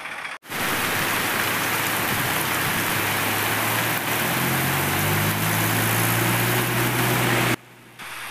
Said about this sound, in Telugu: మళ్ళీ వర్షం అయితే స్టార్ట్ అయిందనమాట మధ్యాహ్నానికి